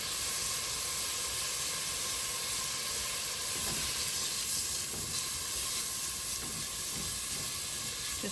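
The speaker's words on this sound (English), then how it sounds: "Just saute this really well." Food sautéing in a pan, a loud, steady sizzle and hiss close up, with faint stirring scrapes now and then and no talking.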